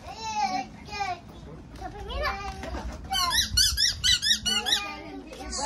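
A squeaky lemon-shaped toy squeezed repeatedly, giving a run of sharp, rhythmic high squeaks in the second half, with a voice and adult talk around it in a home.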